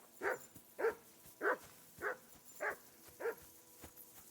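Short barks or yelps from a dog in Kingdom Come Deliverance 2, about six evenly spaced calls of moderate loudness with brief gaps between them, alone and with no talk.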